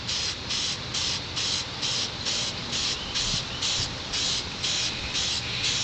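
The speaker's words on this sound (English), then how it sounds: "spray painting." Spray paint can fired in repeated short bursts outdoors on a windy day, a steady rhythm of about a dozen hissing sprays with brief gaps between them, close and loud, no talking.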